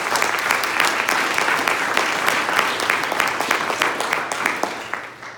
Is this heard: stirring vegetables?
no